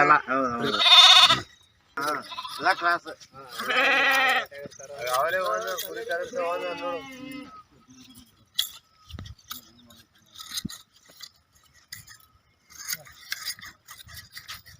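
Sheep bleat loudly several times up close, drawn-out wavering cries from a large flock of about 1000 sheep at a herders' settlement in Rangapura, then things quiet down to faint scraping and a few spoken words.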